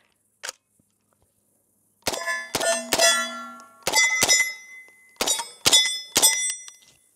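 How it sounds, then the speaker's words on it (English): Pistol-caliber rounds from a PTR 9ct, an MP5 clone, strike a steel target at a range, giving bright ringing clangs in short clusters of two or three, each shot loud and sharp with a brief metallic decay. "Ringing steel out here."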